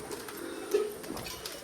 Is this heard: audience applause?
no